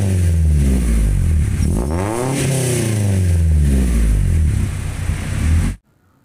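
An engine with its stock resonator and muffler revs up and back down with a smooth rising and falling pitch, close and loud, then cuts off abruptly.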